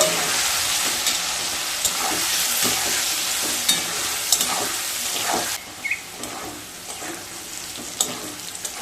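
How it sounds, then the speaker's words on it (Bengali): Potatoes fry in a pan with salt and half a spoon of turmeric for a vegetarian banana-stem ghonto, giving a continuous close sizzle broken by repeated scraping stirs, with no talking. "দিয়ে আলুগুলোকে খুব ভালোভাবে ভেজে নেব।"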